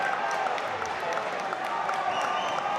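A crowd at a high school basketball semifinal game cheers and applauds after a play, a steady wash of loud clapping and shouting that holds throughout.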